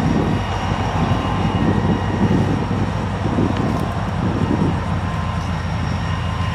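A steady, heavy train rumble drones continuously nearby, an even low roar with a faint engine hum and no voices.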